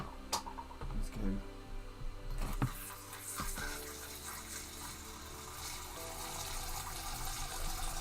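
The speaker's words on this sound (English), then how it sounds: "I love the sound of running water" Water runs from a long garden hose in a steady, close rushing hiss, with a few sharp knocks and clatters in the first seconds.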